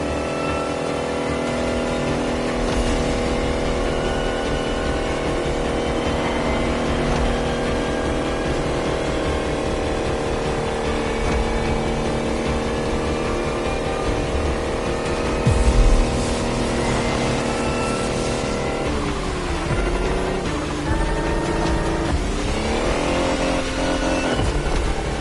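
An electric race car in The Crew Motorfest accelerates hard, a loud continuous whine rising and sweeping in pitch over a steady drone, with a brief dip and surge near the end.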